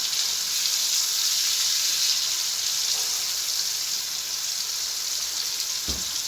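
Tomatoes fry in a pan for a breakfast tomato omelette, giving a steady, close hiss of sizzling that holds evenly throughout with no voices.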